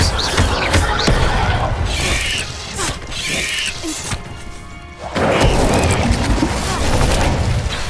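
Confringo fire-spell blasts in Hogwarts Legacy, a series of loud bursting impacts and crashes amid dense game combat noise, with a brief lull before another strong hit.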